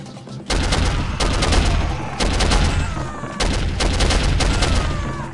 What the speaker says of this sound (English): Yes, run towards the gunfire.